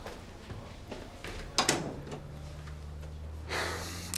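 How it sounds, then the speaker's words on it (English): A door shuts in a police station office during a 1999 British TV drama, a sharp thud at mid-clip followed by a low hum and quiet room tone. "Matthew, come in, shut the door."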